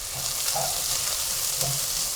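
Chopped onion hits hot oil already crackling with cumin and mustard seeds, giving a steady close sizzle with a couple of soft stirring scrapes.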